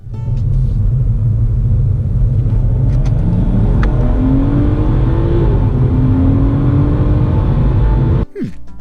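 A stage 1 tuned 2018 BMW M140i accelerating hard from 30 to 70 mph, with a loud deep engine roar and rising revs through gear changes, heard from inside the car, then a sudden drop in sound at the end.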